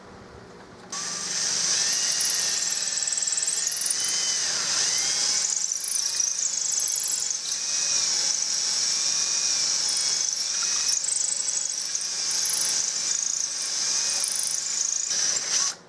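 A high-pitched drill whines steadily as the bit bores into a Turkish walnut gun stock, a continuous squealing tone with slight wavering pitch, close and sustained.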